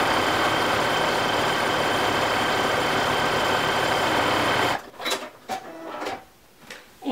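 A sewing machine top stitches a box zipper bag, giving a dense, steady mechanical whir that runs for almost five seconds and then stops abruptly, followed by a few brief handling knocks.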